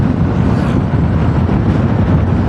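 Low, steady rumble of large tractors plowing a harvested sugarcane field near a road in Glenmore, Banyuwangi, heard as a constant engine drone with wind noise, no talking.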